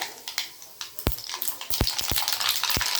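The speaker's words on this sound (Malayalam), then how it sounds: "നമുക്ക് കടുക് ഇട്ട് കൊടുക്കാം" Mustard seeds dropped into hot oil for a cabbage potato sabji, giving a crackling sizzle with sharp pops and spits that grow denser toward the end, close and fairly loud with no talking.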